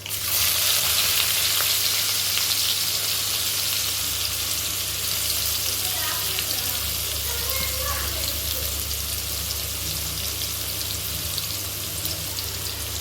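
Two cut onions fry in hot oil for fish gravy with a loud, steady sizzle that continues throughout, over a low background hum.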